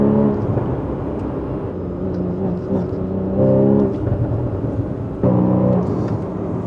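A Porsche 981 Cayman GTS accelerates with a loud, close engine note that climbs in pitch in stepped surges, easing briefly between pulls, with no speech over it.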